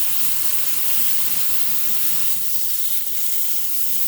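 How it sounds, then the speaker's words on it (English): A steak sears in a pan on a stovetop with garlic, giving a loud, steady, close-up sizzle that holds evenly for the whole stretch with no voices. "that's going to give the steak that extra nice flavor while it's cooking"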